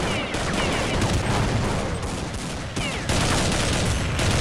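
Dense, continuous gunfire from the video game Counter-Strike, rapid overlapping shots filling the whole stretch loudly with no talking.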